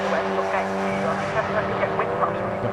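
Mazda MX-5 race cars scream around the Anglesey circuit in a continuous, loud engine drone with brief tyre scrubs, a commentator talking over the cars.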